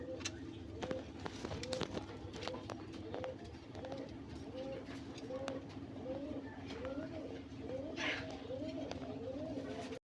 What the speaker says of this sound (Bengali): দেখেন নরটা কিন্তু ডাক খুবই ভালো